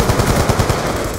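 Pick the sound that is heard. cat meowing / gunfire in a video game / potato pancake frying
gunfire in a video game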